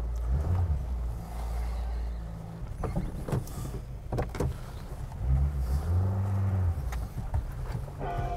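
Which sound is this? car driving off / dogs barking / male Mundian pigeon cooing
car driving off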